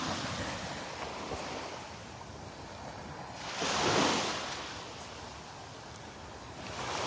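Calm sea water at a beach in North Naples, Florida, heard as a steady soft wash with one gentle wave swelling around the middle and another rising near the end, mixed with light wind.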